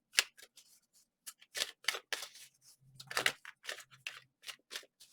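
Tarot cards are shuffled by hand in a string of quick, crisp riffles and taps, close and fairly quiet, with short pauses between bursts and no talking.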